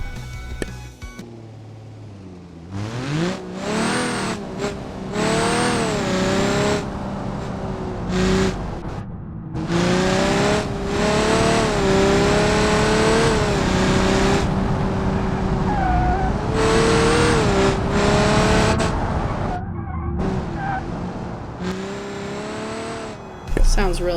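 An ETK S-series racing car engine in a video game mod roars and revs loudly up close, pitch climbing and dropping through gear shifts, with brief tire squeals between bursts.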